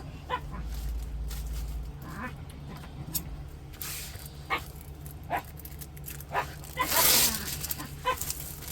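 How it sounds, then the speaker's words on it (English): Dogs play in the background of an indoor room, giving scattered short barks and yips that come and go at moderate distance among other household noise. "Again, dogs playing in the background because that's what they do."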